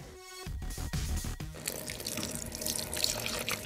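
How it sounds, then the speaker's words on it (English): Water pours steadily into a bowl of batter mix while cooking, a close, continuous splashing stream that follows a few brief clinks at the start. "Now, we need our 3/4 cup of water."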